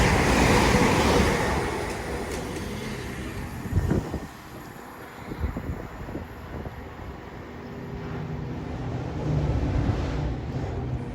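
A Class 800 express train runs through Rainhill station without stopping, a loud, close roaring rush with rattling wheel noise and wind that swells, dips briefly, then builds again as the carriages sweep past.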